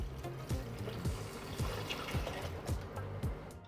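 Water is poured into gluten-free oats for homemade oat milk, a soft steady trickle over a low, pulsing music bed.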